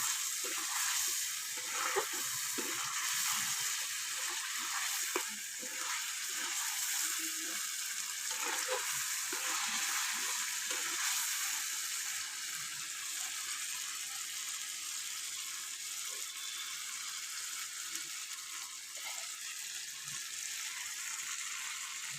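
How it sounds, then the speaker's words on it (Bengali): Prawns and potato sauté with chili powder in a pan on a clay stove, giving a steady, bright sizzle with faint scraping stirs early on. "লঙ্কার গুঁড়ো দিয়ে দেবো ভালো করে কষিয়ে নেব"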